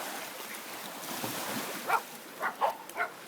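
A dog barks at ocean waves on a beach, four short sharp barks at mid distance over a continuous wash of surf and wind.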